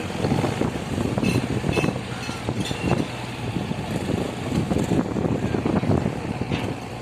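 A car ferry's engines drone in a steady, rumbling roar, with wind buffeting the microphone throughout.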